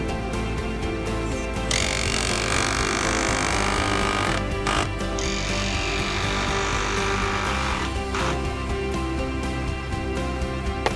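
A power drill whines in sustained bursts while pre-drilling wood for a small deck, stopping briefly and starting again, with mechanical rattling in the background.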